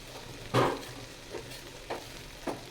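Ground cumin paste hits a hot pan with one loud sizzling burst, followed by a few fainter, short spits of frying over a quiet kitchen background.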